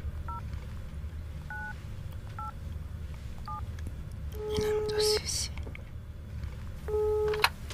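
A telephone number is dialed in several short bursts of touch-tone beeps over a low hum, followed by a louder tonal signal, with faint whispering in the background.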